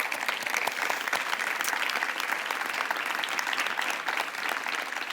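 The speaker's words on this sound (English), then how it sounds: "Please give them a round of applause." Sustained, even applause from a large conference audience honoring city mayors at a closing plenary in Barcelona, dense clapping continuing throughout without pause.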